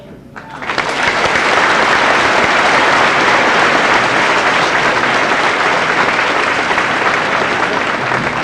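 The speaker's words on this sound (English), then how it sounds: "When you're about to clap in a few moments, clap for yourselves" A school senior assembly audience applauds the graduating seniors, loud sustained clapping from a large crowd that swells in within the first second and holds steady to the end.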